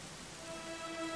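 Steady rain falls in the video game Dragon Quest XI, a soft continuous patter filling the scene while faint sustained tones hum underneath, with no one speaking.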